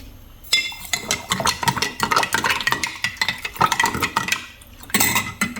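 A spoon stirs chia seeds into a sweetened drink in a glass, giving a steady run of close, bright clinks and scrapes against the sides, with a short pause near the end before the stirring resumes.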